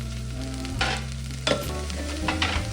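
Kolhapuri chilies roasting in a hot pan give a steady close sizzle, broken by a few scraping stir strokes as they are turned.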